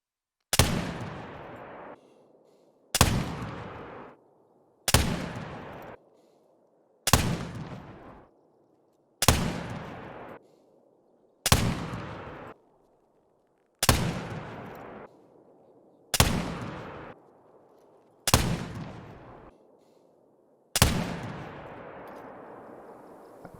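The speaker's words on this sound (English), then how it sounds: "That is 10 shots from 50 meters." Ten loud, evenly spaced rifle shots from a Curman .50 Inline muzzleloader in the hunting game theHunter: Call of the Wild, each a sharp crack trailing into a short echo, about two seconds apart with no talk.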